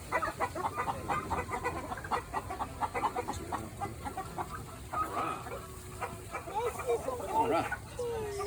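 Chickens cluck and murmur nearby while a person talks over them, the bird calls scattered and moderately loud.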